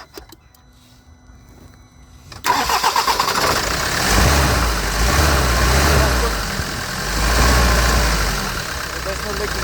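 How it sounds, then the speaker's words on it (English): A 2007 Ford Transit engine being tested for a cranking no-start fault sits quiet at first, then fires and settles into a loud, steady idle that runs close up for the rest of the clip. "Stop the engine and start again."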